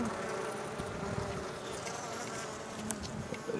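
Honeybees buzzing around the frames of a nucleus colony, a dense continuous hum of many wings close by with a few louder individual passes, and no talk.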